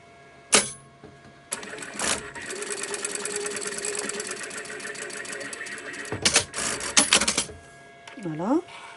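A sewing machine runs a steady, rapid stitching burr for several seconds while sewing a seam down the side of a lined fabric pouch with a zip, starting and stopping in short bursts, with a rising whine near the end.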